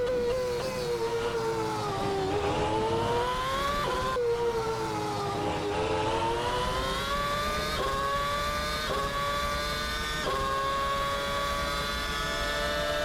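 A McLaren MP4/22 V8 Formula 1 engine in Assetto Corsa screams at very high revs, loud and continuous, rising through the gears with brief dips at each upshift.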